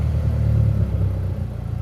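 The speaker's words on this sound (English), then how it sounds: "gonna start the engine now." An Audi S3 8L engine running up close, a low, steady rumbling idle just after starting, with a deep even drone and no voices.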